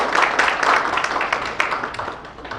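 An audience applauds at a literary new-writer award ceremony, with moderate, steady clapping that thins out slightly toward the end and no talking over it.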